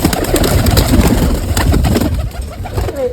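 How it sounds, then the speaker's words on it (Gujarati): Pigeons released from their coop coo in soft, repeated low calls, close and overlapping, with rustling and flutter around them before the sound thins out toward the end. "આપણે ખોલી નાખ્યા કબૂતર."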